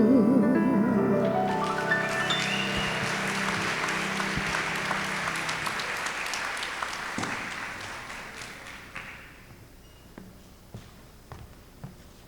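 An audience breaks into dense applause right after a song's last note, clapping steadily, then thinning into scattered claps and fading out.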